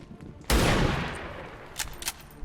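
A single loud gunshot from a soldier in XCOM Long War of the Chosen cracks sharply and rings out into a decaying tail, followed by a few fainter thuds and clicks.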